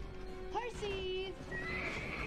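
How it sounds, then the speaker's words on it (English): Horses neigh and whinny in a Buffy the Vampire Slayer episode scene, with a long wavering whinny, a second call near the end and faint hoof clip-clop beneath, close and fairly loud over background rumble. "Horses!"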